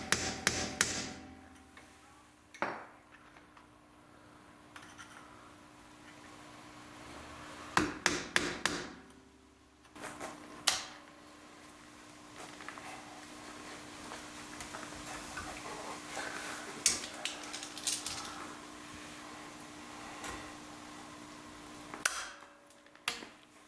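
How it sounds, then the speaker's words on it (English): Sharp metallic hammer blows on a flathead screwdriver driving out an axle bearing, in clustered bursts of several quick strikes separated by pauses, close and loud over a steady workshop hum, with no talking. "flathead screwdriver and a hammer. And what you want to do is you don't want to hit the walls of the axle."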